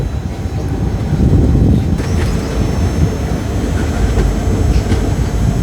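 The Sindhanur Express diesel train rumbles steadily at Gangavathi railway station, a continuous heavy low roar of engine and rolling stock that holds at a fairly even loudness throughout.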